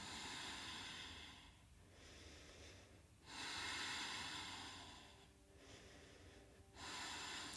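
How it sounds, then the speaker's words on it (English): Slow, deep breathing during a yoga flow, soft and close, with long airy inhales and exhales rising and falling in a steady rhythm alone without talk. "Breathing."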